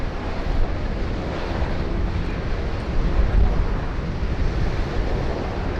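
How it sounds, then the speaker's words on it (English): A Singapore Airlines A380 taxiing at Sydney Airport, a steady broad jet engine roar at moderate distance, continuous and even with slight swells, mixed with outdoor wind noise and no talk. "our Singapore Airlines A380, last departure of the day, is on taxi now"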